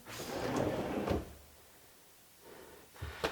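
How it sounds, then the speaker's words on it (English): A wooden drawer box slid onto its drawer slides in a woodworking shop, a rough sliding rumble followed by a clunk, a quiet pause, then a short slide ending in a sharp click. "reach down here and just push it till it clicks"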